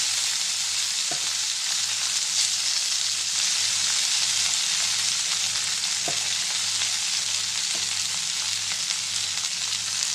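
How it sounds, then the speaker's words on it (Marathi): Chopped fenugreek leaves sizzle in a hot spiced oil tempering, a steady, loud frying hiss running throughout with a few faint stirring clinks and no talk. "आता ह्याच ह्याच्यात मी मस्तपैकी मेथी घालून टाकणार आहे चिरलेली"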